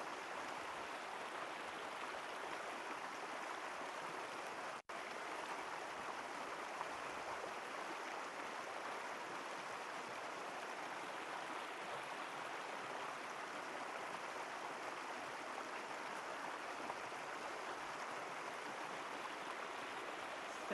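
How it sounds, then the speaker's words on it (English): Oak Creek trickles steadily in a soft, even wash of flowing water, with no voices and only one brief dropout. "as you hear the sound of Oak Creek"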